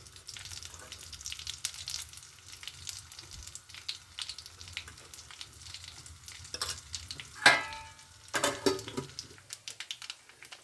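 Mustard seeds, dried red chillies and turmeric sizzling in hot oil, a quiet crackle with scattered pops and a louder clatter of utensils near the end, close by.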